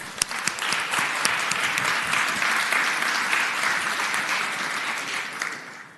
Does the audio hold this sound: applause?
yes